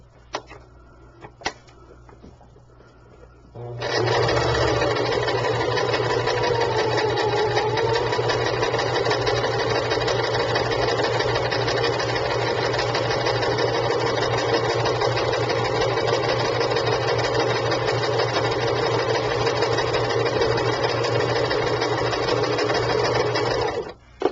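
A sewing machine runs a steady straight stitch on fabric for a handmade shabby chic sachet bag, starting after a few seconds of small handling taps and then humming loud and even without a break.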